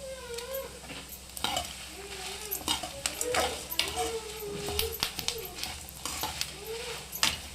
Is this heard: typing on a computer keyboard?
no